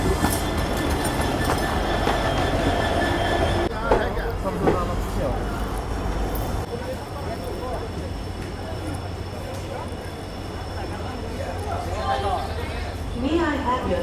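Howrah–Kamakhya Vande Bharat sleeper express running alongside a road near Guwahati, a steady rumble of rolling wagons with faint wheel noise throughout, with people talking over it.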